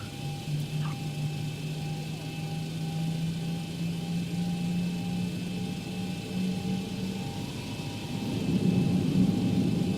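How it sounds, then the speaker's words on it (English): Republic Airlines jet taxiing in the X-Plane flight simulator, with a steady droning engine hum and a tonal whine that swell slightly near the end, continuous and fairly close. "Clear to taxi to runway 23 left via Alpha, Alpha 7, Republic 113."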